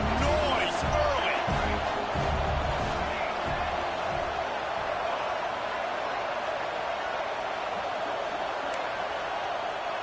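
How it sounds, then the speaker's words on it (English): Steady stadium crowd roar from a college football video game, a broad continuous wash of noise at even level throughout, with a commentator's voice talking over it early on. "This crowd bringing the energy and noise early"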